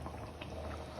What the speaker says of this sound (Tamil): இது நல்லா கொதிக்கணும்.